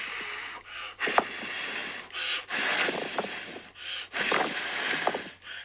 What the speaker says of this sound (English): this is when I'm on the beach trying to record and it's windy